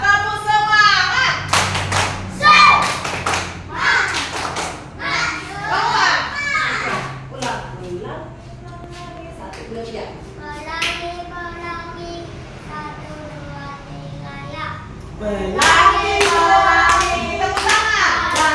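Schoolchildren clap in rhythmic bursts to an Indonesian classroom clapping chant, with a teacher and children singing and talking over the claps; sharp hand strikes come in quick patterned runs that pause and resume.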